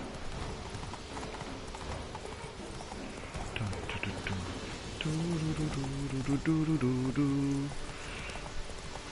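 A horse's hooves clip-clop steadily up a mountain path in The Witcher 3, a close rhythmic trot that grows louder midway, with someone talking over it.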